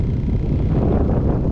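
Wind buffeting a microphone outdoors at Blackwater on Maryland's eastern shore in mid-January, a steady loud low rumble with no break across the whole short stretch, heard alone without any voices.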